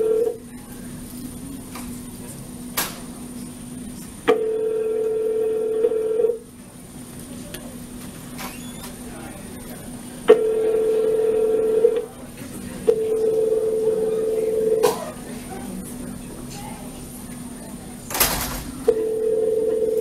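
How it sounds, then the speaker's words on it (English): A telephone call rings through an earpiece before voicemail, repeated long ringback tones in a steady on-off pattern against faint line hiss, with quiet voices in the background. "Why do people have such long ringtones before their voicemail kicks in?"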